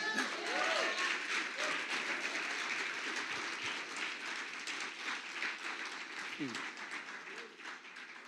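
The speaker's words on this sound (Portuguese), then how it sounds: "Aplauda a Jesus." A church congregation applauds throughout, a dense and fairly loud wash of rapid clapping that slowly fades a little toward the end, with a voice faintly audible over it.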